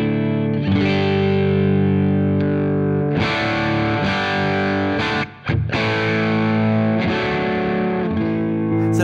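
Electric guitar through a cranked Vox AC30 50th Anniversary amp, slightly distorted, strummed chords ringing out with a short pause between phrases, loud and close with no talking.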